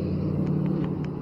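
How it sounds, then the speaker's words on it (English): A big truck rumbles past close by, a steady low engine roar filling the whole moment without a break. "Sorry, guys, a big truck went by."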